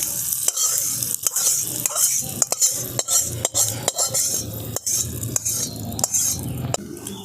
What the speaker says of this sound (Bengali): এই তড়কাটা আমি এর মধ্যে ঢেলে দেবো, এই সুজির ব্যাটারের মধ্যে দিয়ে দিচ্ছি